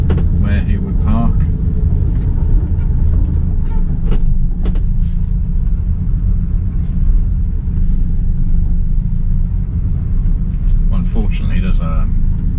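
Red Hillman Imp classic car driving down a road, a steady low engine and road rumble running throughout with occasional brief clicks and a voice talking over it.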